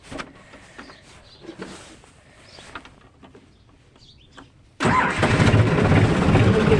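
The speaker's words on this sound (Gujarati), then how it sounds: "ટ્રેક્ટરને કોલ્ડર સ્ટાર્ટ કરી નાખીએ" A John Deere tractor engine cold starts: a few seconds of faint outdoor background with birds and distant noise, then the engine catches abruptly and settles into a loud, steady, close rumble.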